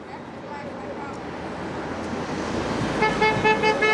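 Car horns honk repeatedly in short toots over steady road traffic noise at a street march, growing louder and more frequent toward the end.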